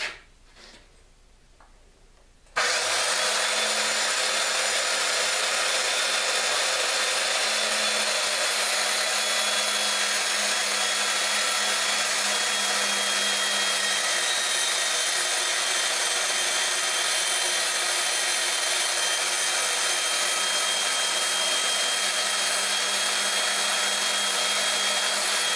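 A portable band saw mounted in a vertical stand runs loud and steady through a cut, starting abruptly after a short quiet moment and continuing as an unbroken whine without talk.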